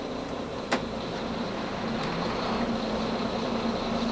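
Twin Volvo IPS 900 engines idle aboard a 2011 Cranchi Fifty6 ST luxury yacht, giving a steady low hum close by, with a single faint click early on and no talking.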